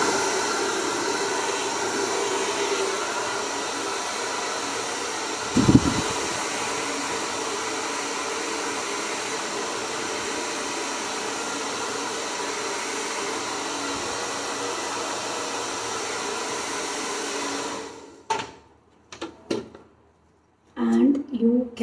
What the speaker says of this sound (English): And I will take the dryer